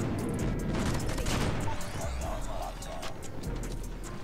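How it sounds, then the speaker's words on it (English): Dense, continuous gunfire and blasts from an airstrike in the mobile shooter Call of Duty Mobile, a loud, chaotic wall of overlapping shots and impacts lasting the whole few seconds. "I don't die to this airstrike, right?"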